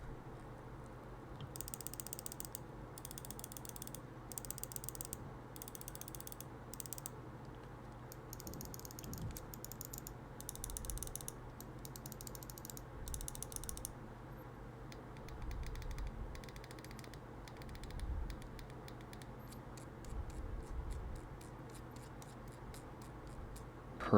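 Quiet bursts of rapid, crisp clicks from a G-Wolves HSK Pro Ace gaming mouse switch, coming in short repeated clusters over a faint steady hum, with no talking.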